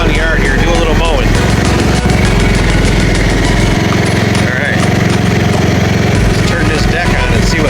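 A Cub Cadet XT1 Enduro 42-inch hydrostatic riding lawn mower runs steadily around a yard, its engine drone loud and continuous throughout with a deep low hum and no pauses.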